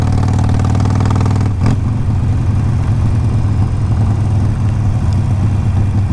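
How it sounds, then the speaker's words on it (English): A 2007 Harley-Davidson 883R engine runs with a loud, deep, throbbing rumble; the tone shifts abruptly about a second and a half in, then settles into a steady lumpy idle. "bike's definitely got a good sound to it"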